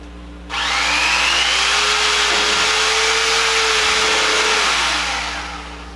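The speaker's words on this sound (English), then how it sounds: "I'm going to just use my electric knife because that's so much easier" An electric carving knife buzzes steadily through a slab of crock-pot cooked beef brisket, a loud continuous motor whine held for several seconds before easing off, with no talking over it.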